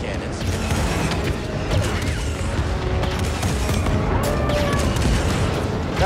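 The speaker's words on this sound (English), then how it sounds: "So that fires the cannons." Heavy AT-AT walker cannon fire in Star Wars Jedi: Fallen Order: rumbling booms and rapid blasts layered over grinding machinery, with voices talking underneath.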